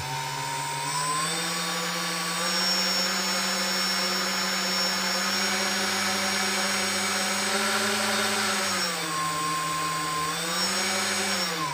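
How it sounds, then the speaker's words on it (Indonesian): A brushless motor spins steadily during an ESC and servo test, giving a loud, close, continuous electric whine that rises and falls slightly in pitch as the speed changes. "kalau motornya normal dia akan mampu berputar sini."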